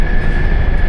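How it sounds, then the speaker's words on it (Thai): A passenger train running between Luang Prabang and Vientiane on the Laos-China railway gives a loud, steady interior rumble with a thin, constant whine layered on top. "การเดินทาง จากหลวงพระบางมานครหลวงเวียงจันทน์ด้วยรถไฟ"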